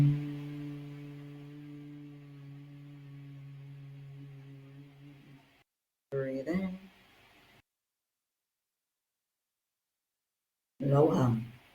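A person hums a long, steady low tone during a breathwork meditation, then it breaks off into quiet breaths and short vocal sounds separated by silence.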